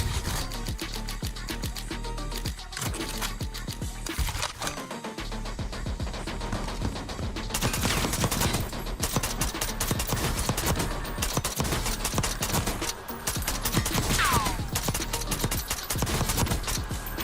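Video game guns fire nonstop in rapid dense bursts, loud and close, with mechanical clatter throughout and no pauses in the barrage.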